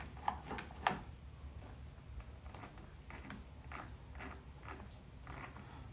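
Small mechanical clicks and creaks from a silver cable adjuster on a mower being turned by hand, a couple of sharper clicks early on, then soft faint ticking.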